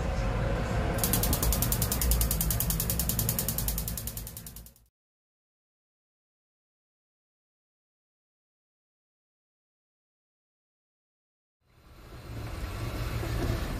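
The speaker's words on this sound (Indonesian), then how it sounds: "lalu hidupkan kompornya" A gas stove's ignition knob clicks in a fast, rattling ratchet burst, close and loud. The sound cuts out into a long silence, then the same clicking returns.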